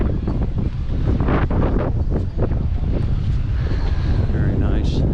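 Wind gusts buffeting the microphone at a boat harbour in Fremantle, WA, a steady low rumbling roar with a few stronger bursts, close and loud, with no talk.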